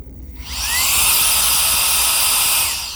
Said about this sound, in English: wind blower here, which is useful to get rid of the dust in the bowls before applying some alcohol to them